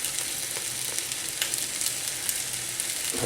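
Sliced peppers and onions sizzle steadily in a hot pan for an Indian paneer makhanwala curry, a dense, even frying hiss with faint crackles throughout and no talking.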